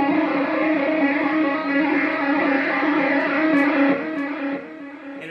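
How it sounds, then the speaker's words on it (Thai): A Tom Anderson Drop Top Classic electric guitar plays through heavy distortion, a thick sustained wall of overdriven chords that holds steady, then thins and drops in volume near the end, with no talk. "ถ้าใส่เสียงแตกนี่คือรู้เรื่องเลย"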